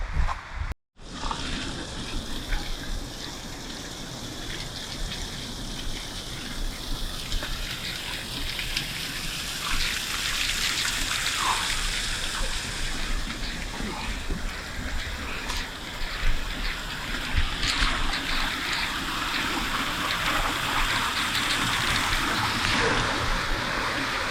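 Spring waterfalls in Yosemite pour down onto a trail, a dense rushing hiss of falling and splashing water that swells slightly and holds steady throughout.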